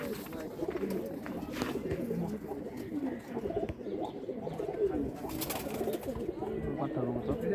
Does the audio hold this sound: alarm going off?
no